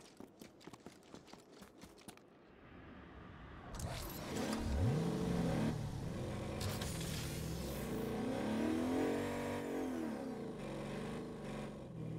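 In the Agents of Mayhem video game, a car engine revs and accelerates after a run of short, sharp clicks. Its pitch rises and falls through gear changes, sustained and moderately close, with no speech.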